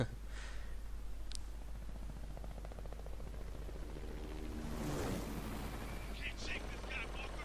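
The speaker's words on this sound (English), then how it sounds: "Wow, strzelają." Gunfire crackles in the war shooter game Spec Ops: The Line, with a few sharp distant shots standing out over a constant low rumble of battle and helicopter noise.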